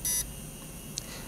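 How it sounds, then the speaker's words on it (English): Short, thin electronic beep from a Foredom Dual Port 1050 micromotor as its cruise control engages, sounding once clearly at the start and then a tiny faint blip over quiet background hiss. "you'll hear a beep, and that means the cruise control is engaged"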